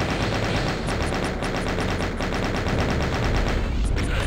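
Rapid gunfire and rocket blasts in the video game Doom, a loud, dense, continuous rattle of repeated shots with sharp regular bursts, close and unbroken over a heavy low rumble.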